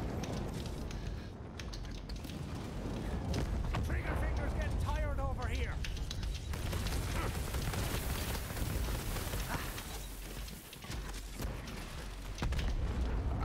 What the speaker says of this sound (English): This is interesting, trying to kill racks with this rocket launcher.